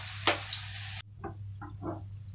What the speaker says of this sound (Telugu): కరివేపాకు కొంచెం క్రిస్పీ అయ్యేంత వరకు ఫ్రై చేయాలి